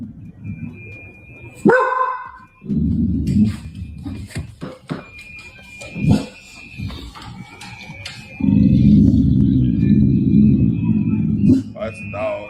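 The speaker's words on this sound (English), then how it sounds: "Oh, that's a dog." A dog barks in short, scattered bursts between stretches of loud low rumble, with people talking throughout.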